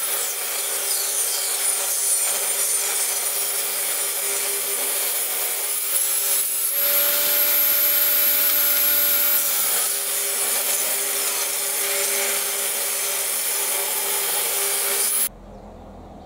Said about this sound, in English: I'm just going to do a simple chamfer like this, just a 45 degree bevel along the edge.